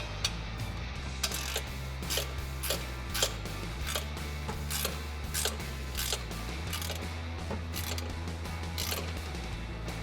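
Ratchet wrench tightening the exhaust clamp on a 2011-2014 Mustang GT SR Performance axle-back muffler install, a steady run of repeated clicking strokes, close and clear, with no talk.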